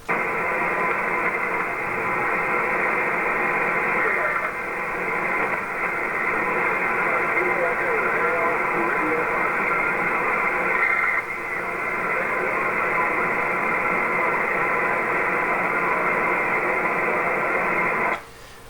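Steady shortwave HF radio static hisses continuously, a dense band of noise with faint buried voices, dipping briefly a couple of times before cutting off at the end.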